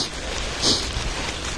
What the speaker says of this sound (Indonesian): Dengan kondisi hujan.